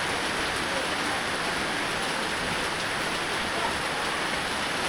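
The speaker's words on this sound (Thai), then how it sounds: "ฝนตกอีกแล้วพายุก็นักหนาเลย" Rain falls during a storm as a dense, even hiss of water on surfaces, steady and fairly loud for the whole stretch with no voices.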